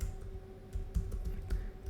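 Rapid keystrokes on a computer keyboard as a search term about photography is entered, a quick irregular run of close clicks over a low steady room hum.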